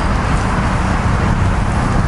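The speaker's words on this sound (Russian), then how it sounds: "но это шум большого города" Steady, loud street traffic fills a big city street in Krasnodar, a continuous rumbling wash of passing cars with no distinct breaks or voices.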